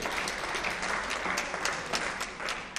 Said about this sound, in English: More, keep the applause going.